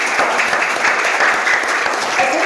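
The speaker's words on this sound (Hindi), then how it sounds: "सारे बच्चे जोर जोर से ताली बजाइए" Many children at a school yoga class clap hard and nonstop, a thick, even wash of overlapping hand claps that stays loud throughout.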